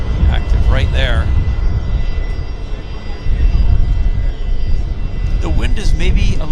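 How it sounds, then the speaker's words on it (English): An Embraer jet airliner taxis onto the active runway at Vancouver Airport in strong wind, its engine a steady broadband rumble beneath gusty wind noise, with voices talking over it at intervals. "you've got that Embraer is turning onto the active right there"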